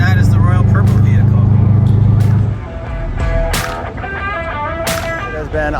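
Cars roll past at SEMA in Las Vegas, including the Valvoline and Royal Purple vehicles, with a loud low rumble that fades after a couple of seconds into busier mixed noise and scattered sharp sounds.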